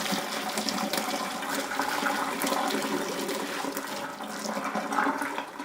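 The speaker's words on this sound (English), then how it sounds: "So just rinse the pierogies in cold water" Cold water runs steadily over boiled pierogies in a strainer, a continuous splashing hiss that stays at an even level throughout, with no one speaking.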